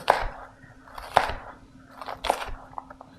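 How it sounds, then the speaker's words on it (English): A knife rocks through an onion on a cutting board: three distinct crisp chopping crunches, close and clear, followed by faint softer taps. "And then your last cut is the good old rocking cut that you're used to by now"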